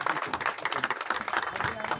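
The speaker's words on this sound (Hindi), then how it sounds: "एक बार जोर से तालियों की आवाज थोड़ी ऊंची होनी चाहिए।" An audience at an honouring ceremony at a Valmiki ashram claps in dense, steady applause, moderately loud, with people talking underneath.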